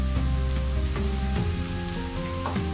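Turmeric and other ground spices hit hot oil for an aloo bhaji potato fry, giving a loud, close, continuous sizzle with a few soft knocks from stirring, no talking.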